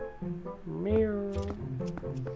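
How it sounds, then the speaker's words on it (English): A stock cat meow from the game The Legend of Zelda: Twilight Princess, one drawn-out, rising-and-falling tonal call heard clearly, with shorter chirpy cat sounds around it. "Just stock cat noise."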